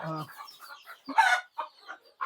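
Desi chickens cluck sporadically inside a farm cage, soft scattered calls with one louder, sharper squawk midway, in a quiet barn setting.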